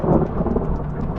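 Thunder rumbles over a beach during an unexpected rainstorm at Scheveningen shorebreak, a broad, steady roll filling the short moment with no speech over it.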